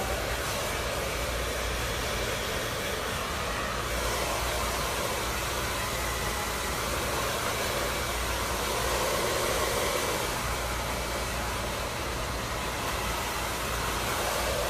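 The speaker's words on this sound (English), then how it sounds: "It's the Arrojo Twin Turbo Power Lux Motor hair dryer." An Arrojo Twin Turbo Power Lux Motor hair dryer blowing through styled medium-length hair, a loud, sustained whooshing hiss with a humming motor underneath, its tone shifting slightly as the airflow moves, and no talking.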